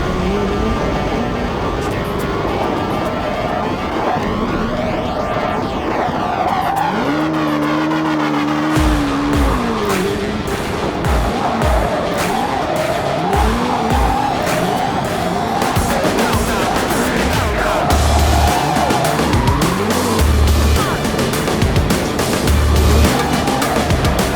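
A Hyundai car's engine roars and revs hard while tires squeal and skid through a long drifting slide from a Scandinavian flick, loud and continuous, with no talking.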